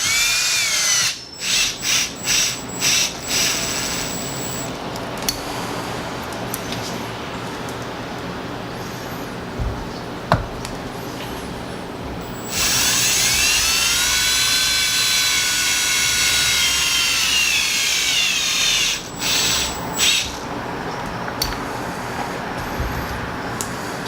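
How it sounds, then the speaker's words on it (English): A power drill driving screws into wood whirs in several short bursts, then runs in one long, loud stretch, followed by a few more quick bursts. "You do have to be a little bit careful if you're using a drill like this"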